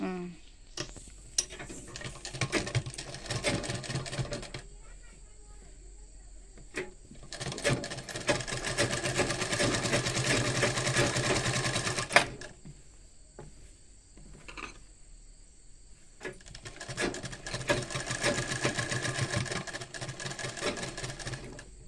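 A sewing machine stitches a kubasa blouse in bursts of steady rapid whirring, separated by short quiet pauses, and no one speaks over it.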